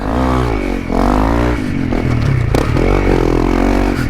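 Motorcycle fitted with an aftermarket exhaust revving up and down, a loud close engine note rising and falling in several throttle blips with some rattly clatter between pulls.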